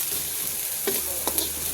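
Cumin and ginger frying in a pan, a steady hissing sizzle with a few soft stirring scrapes, close by and with no talking.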